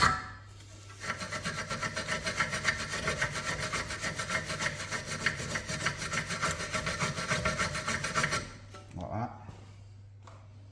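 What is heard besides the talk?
wire brushing Volkswagen Passat rear brake parts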